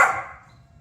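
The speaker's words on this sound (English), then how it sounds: "I know you want the mouse, but you don't need to be barking" A single sharp dog bark, loud and close, decaying quickly into quiet room noise.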